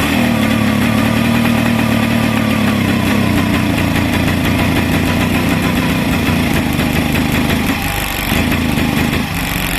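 A long-neglected motorcycle engine running loud and close, a rough steady drone that dips and sputters briefly near the end as it cuts out.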